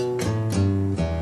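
An acoustic guitar plays the main riff of a song as a bass-style lick, with three ringing low notes plucked in quick succession, up close and alone.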